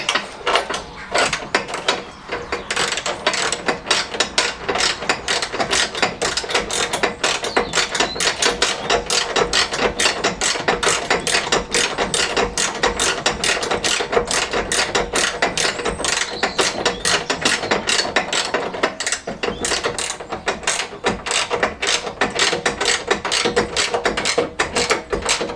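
A ratchet clicks steadily and rapidly while bolts are tightened during the refitting of an engine into a classic Fiat 500, a continuous close, busy mechanical ratcheting running for the whole stretch with no talk.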